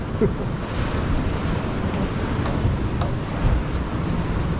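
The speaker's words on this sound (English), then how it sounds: "Waves are punching in." Waves crash against the rocks at Lucky Bay in Cape Le Grand National Park, Esperance, a continuous rumbling surf heavily buffeted by wind noise on the microphone, with no talking.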